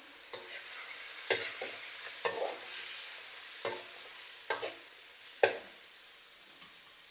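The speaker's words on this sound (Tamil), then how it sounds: "இப்போ அதை நல்லா மிக்ஸ் பண்ணி வதக்க விடுவேன்" A spoon stirs tomatoes sautéing in a hot pan, scraping at irregular intervals over a steady sizzle of frying, close and moderately quiet.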